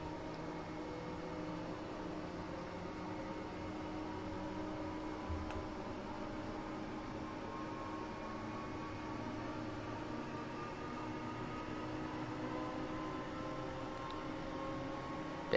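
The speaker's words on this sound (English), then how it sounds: "I'm going to be quiet and let's just listen to the train." A Class 313 electric train in Train Sim World 2 on the East Coastway, running with a steady, even hum and motor whine that holds throughout, with no talking.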